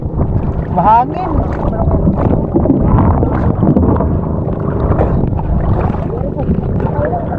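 Wind gusts roar across the microphone over water and a boat, with people talking underneath throughout.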